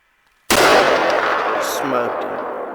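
A single loud hunting-rifle shot fired at a buck in a south Arkansas pine thicket, a sharp close blast that rings out and decays into the surrounding woods.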